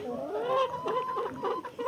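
Chickens clucking close by, a few short throaty calls in quick succession with no talk.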